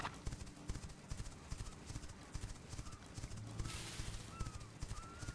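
A horse gallops across open prairie in the online game The Quinfall, steady rapid hoofbeats under a windy outdoor ambience, with a brief whinny-like call and faint birds in the background.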